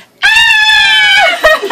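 Two people let out a loud, sustained scream together at a celebrity meet-up, a single held shriek of about a second that breaks off, followed by a short burst of laughter.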